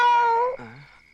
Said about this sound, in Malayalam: അത് പൂച്ചയല്ല അച്ഛാ, മരപ്പട്ടിയാണ്.